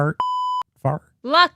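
A single steady censor bleep, a pure sustained tone lasting about half a second, cuts in between bursts of casual conversational speech among people chatting, masking a swear word.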